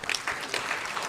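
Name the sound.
audience round of applause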